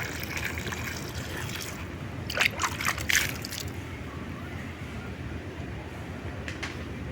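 Water splashes and trickles onto papaya seedlings growing in sand, a soft steady wash with a brief, louder spatter of sprinkling in the middle before it settles back to a gentle trickle.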